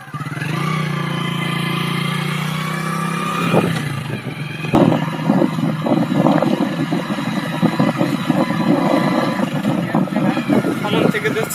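A vehicle driven by a grandfather on the road hums and whines steadily, engine tone rising after a bump partway through and holding near and loud for several seconds, with talking over the start.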